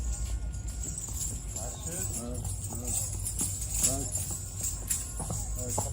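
Hooves of a Kathiawari dancer horse clip-clop on the ground in a run of irregular steps, fairly close, while people talk over them.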